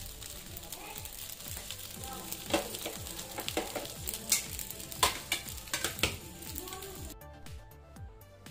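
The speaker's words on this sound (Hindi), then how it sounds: "तो बस मेरा फ्राई हो रहा है और इसमें मैं नमक और थोड़ा सा काली मिर्च डालूँगी बस।" Fara dumplings fry in a pan, a quiet steady sizzle with repeated scraping and stirring clicks, some louder knocks, heard close with a brief pause near the end.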